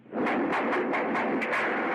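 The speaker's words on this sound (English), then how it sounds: "I hear gunfire." Rapid gunfire: about a dozen sharp, loud reports fired in quick succession over a dense wash of noise.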